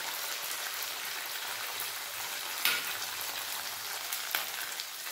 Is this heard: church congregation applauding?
no